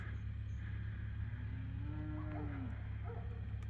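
A single drawn-out cow moo, fairly distant, over a steady low rumble of outdoor background noise.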